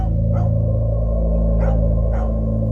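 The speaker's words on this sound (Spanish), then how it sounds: "Era un ladrido profundo, casi amenazante, mezclado con gruñidos." A dog lets out three short, gruff barks about a second apart over a constant low hum.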